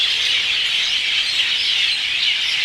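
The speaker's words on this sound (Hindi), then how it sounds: "इधर चिड़ियों की आवाज़" Dense, steady chorus of many birds chirping and twittering together in a village, bright and continuous, with no voices.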